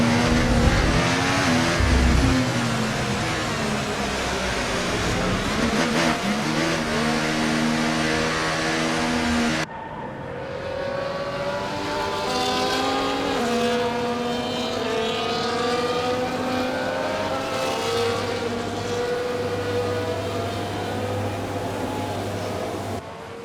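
F1 24 race cars idling and revving on the Mexico City Grand Prix grid, a steady loud engine drone with rising and falling pitch sweeps; the scene cuts midway to a denser layered engine chorus from several cars nearby.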